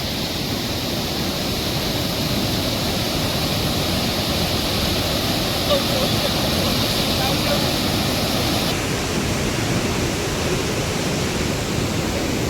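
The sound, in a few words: floodwater overflowing and flowing over the road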